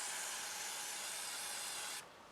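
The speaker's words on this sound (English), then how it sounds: "give it a little spray" A steady, close hiss of gun cleaner sprayed onto the recoil rod of a Ruger SR22 pistol, continuous for about two seconds, then cutting off abruptly into faint background noise.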